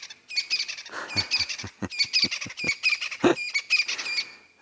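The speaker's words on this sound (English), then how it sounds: "I was rudely interrupted there, of course, by the sound of a crested francolin." Crested francolin calling in the South African bush, a fairly near series of rapid harsh rattling, cackling notes in an uneven rhythm, repeated in bursts with little else around.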